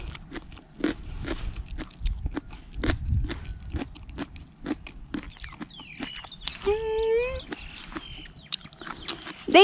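Sharp crunchy bites into a fresh watermelon, a run of repeated crisp cracks and chewing, close and fairly loud outdoors, with someone speaking over them and birds chirping briefly near the end.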